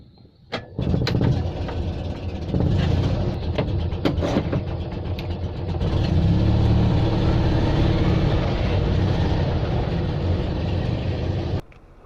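An Invacar three-wheeled invalid carriage drives on the road, its small engine starting with a sharp clatter and then holding a loud, steady, buzzing drone with rattles that rises slightly midway before cutting off abruptly, with no one talking.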